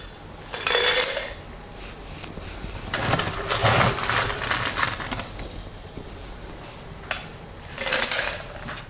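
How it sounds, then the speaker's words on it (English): Instant coffee espresso is shaken in a shaker to make an iced brown sugar shaken espresso, giving loud rattling bursts of contents sloshing and knocking inside, first a short shake, then a longer one, then another. "Now, we are going to shake."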